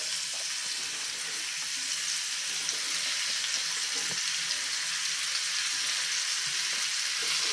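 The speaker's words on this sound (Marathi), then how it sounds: "आता लसूण थोडासा परतून झाला की यामध्ये हा बारीक चिरून घेतलेला जो भोपळा आहे दुधी भोपळा हा घालून घेऊया" Finely chopped bottle gourd frying with sautéed garlic in a pan gives a steady, even sizzle that stays close and fairly loud throughout, with an occasional soft clink from stirring and no voices.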